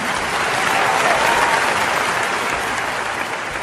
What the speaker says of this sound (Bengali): এই বাচ্চা মেয়েটির জন্য ধ্বনিতে ধ্বনি করতালি দেওয়ার জন্য।